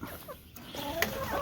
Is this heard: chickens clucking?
yes